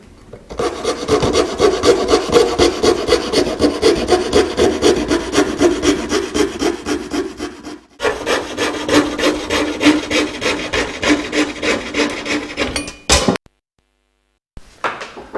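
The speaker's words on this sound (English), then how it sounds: "now I'm going to take my fret saw and cut out the shape of the guitar" A fret saw cuts the outline of a wooden Spanish guitar top in fast, regular rasping strokes. The sawing runs steadily, pauses briefly, resumes, then stops abruptly into silence.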